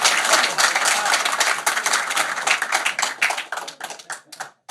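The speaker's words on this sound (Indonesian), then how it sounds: "Awas, tepuk tangan Pak." Audience clapping at an Indonesian religious talk show, a dense burst of hand claps that runs steadily and then thins out into scattered claps before fading.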